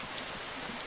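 Rain falls steadily in the video game DayZ, a brief, even wash of dense patter with no pauses.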